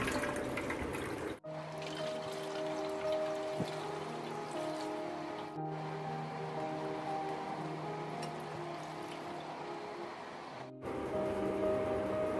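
Water runs steadily from a tap over homemade paneer as it is rinsed in a kitchen, a continuous soft splashing stream with brief breaks and a faint hum in the background.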